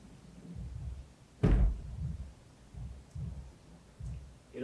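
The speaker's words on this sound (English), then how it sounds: "this is the sound of amp getting set on cab." Guitar amplifier set down on top of a speaker cabinet, one dull, heavy low thump close by in a quiet room, with faint low rumbling and shuffling around it.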